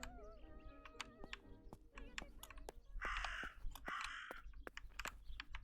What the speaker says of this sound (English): I don't know where this crow is. I hear him.